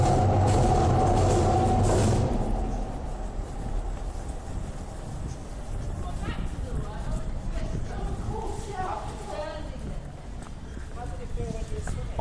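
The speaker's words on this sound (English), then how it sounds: "City lead as a train goes overhead." A train rumbles past close by overhead, loud at first and then fading into a lower rolling clatter, with a voice talking over it.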